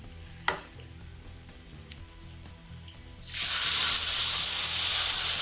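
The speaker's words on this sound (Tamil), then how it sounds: "இப்போ கடாயில் எண்ணெய் வச்சுட்டு எண்ணெய் நல்லா காஞ்சிடுச்சு. இப்போ நம்ம பேஜை ஊற்ற ஸ்டார்ட் பண்ணலாம்." Batter for moinga, a Burmese roadside snack, hits hot oil in a kadai with a sudden loud sizzle that swells into a steady frying hiss after a quieter stretch of faint scraping and bubbling.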